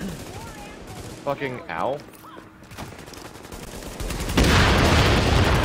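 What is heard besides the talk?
machine gun fire from enemy gunners in The Division video game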